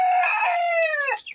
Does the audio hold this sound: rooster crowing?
yes